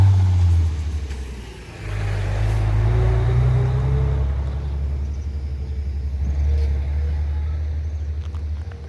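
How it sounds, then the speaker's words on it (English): A car engine rumbles and revs close by on a narrow European street in Lizant, swelling and easing as the vehicle rolls through, with a steady low drone throughout. "how big trucks navigate narrow European streets"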